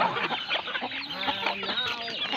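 Several chickens cluck and chatter continuously at close range, overlapping calls with no talking.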